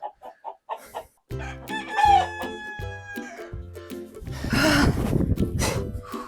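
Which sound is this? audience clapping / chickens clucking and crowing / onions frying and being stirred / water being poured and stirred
chickens clucking and crowing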